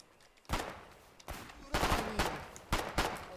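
Pistol fire in the war game Foxhole comes as a handful of sharp, loud shots at uneven intervals, each leaving a short noisy tail, with no voices over them.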